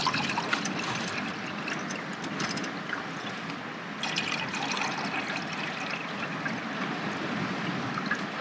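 Steady fizzing and trickling liquid runs throughout, a continuous bright bubbly hiss close by, like soda water being poured into a glass over lime juice.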